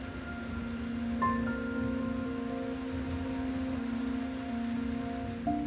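Steady rain falls through an Australian forest where a young koala huddles, a continuous close hiss of drops under faint sustained tones with no voices.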